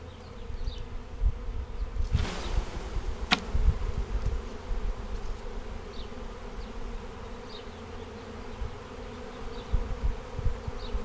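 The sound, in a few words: bee swarm buzzing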